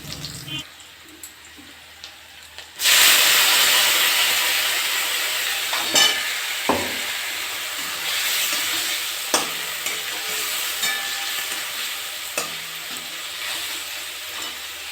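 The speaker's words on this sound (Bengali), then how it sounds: "বেশিক্ষণ ভাজবো না আমি একটুখানি ভাজলাম এবারে আমি মশলাটা দিয়ে দিচ্ছি" Potatoes and spices hit hot oil for aloo dum with a sudden loud sizzle that then settles into a steady frying hiss, broken by occasional stirring clacks and scrapes, close up with no talking.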